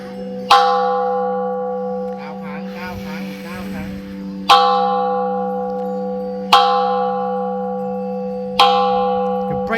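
A large bell is struck hard four times, each loud clang ringing out with a long humming decay before the next strike, with brief murmurs of people in between.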